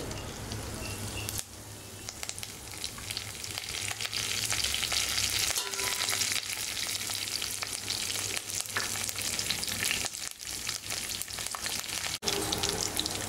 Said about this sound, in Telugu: కాస్త ఆవాలు ఆడేటప్పుడు కరివేపాకు వేయాలి